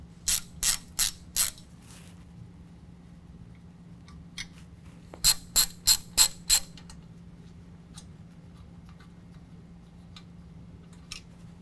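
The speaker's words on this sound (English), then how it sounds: "I'm going to use a T40 to remove these." A ratchet with a T40 Torx bit loosens bolts on a 2019 GMC Sierra 1500 during a coilover lift kit install. Two close bursts of four or five sharp clicks are followed by sparse single ticks.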